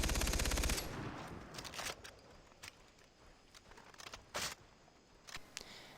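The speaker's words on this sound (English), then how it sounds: "MKG, this is a light machine gun" Light machine gun in Far Cry 3 fires one sustained high-rate burst up front, followed by a few scattered single shots and short bursts, fairly close and loud with no voices.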